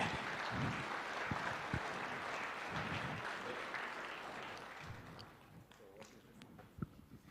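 Audience applause at the State House in Nairobi during a presidential launch of a national development plan, a broad steady clatter of clapping that gradually thins and fades toward the end.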